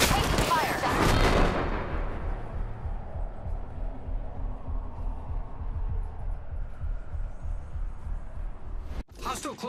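Gunfire in the video game Apex Legends: a loud, dense burst of shots in the first second and a half, then a sustained low rumble of continuing fire and a sharp cutoff near the end.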